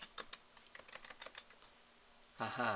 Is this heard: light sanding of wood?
no